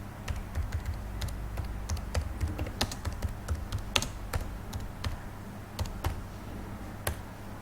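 Fingers type on a computer keyboard in a steady run of light, irregular clicks and taps, close by over a low, constant background hum, with no talking.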